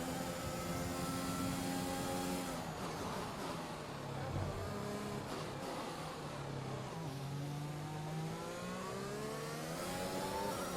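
A Formula 1 car engine screams through a qualifying lap in F1 2021, loud and close, with rising and falling revs and gear shifts as it accelerates and brakes through corners.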